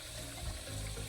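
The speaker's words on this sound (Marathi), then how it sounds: "तरी बा लोड एवढा की पिचकारी मारती खालून वरती." Pressurized water sprays upward from a loosely tied pipe elbow into a pit, a steady close hiss and gush that carries on for the whole moment.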